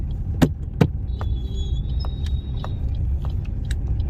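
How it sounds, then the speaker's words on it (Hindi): A car drives slowly in second gear on the road, a steady low engine and road rumble with a few sharp knocks and faint clicks over it, close and continuous with no talking. "अब ये इन्हें निकल जाने देते हैं, आराम से चलाएंगे, दूसरा गियर करेंगे"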